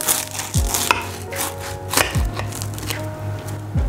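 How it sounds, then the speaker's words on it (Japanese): A knife cuts through a chicken pie on a board, giving several firm crunching chops with thuds, close and clear with no talk. "切ってみます。"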